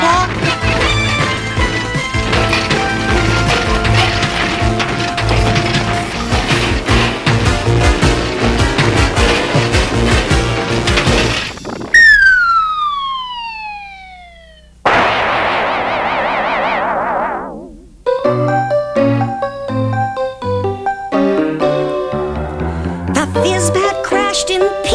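A 1911 fizz bat smashing to pieces in a 1985 children's story, heard as a loud crash with descending springy, boing-like effects, abrupt cut-offs and bright musical stings following, with no talk.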